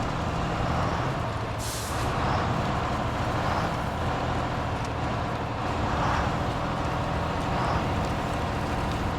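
A truck in the video game Snowrunner drives along with a continuous low engine drone and road rumble. A short hiss rises near the start, and faint periodic swells follow under a steady, even level.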